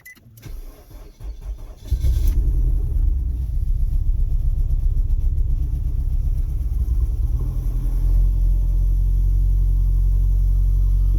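A Nissan Altima engine, just fitted as a replacement, starts after a brief crank and then settles into a steady, close, low rumbling idle that holds for several seconds with no talk.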